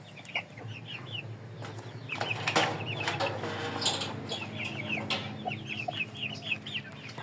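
Many Ganoi chickens cluck and chatter nearby in a steady, busy stream, with occasional wing flaps and scuffling underneath.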